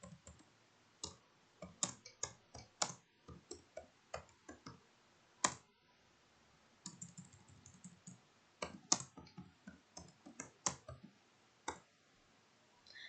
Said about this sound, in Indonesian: selanjutnya di sini kita ketikkan ya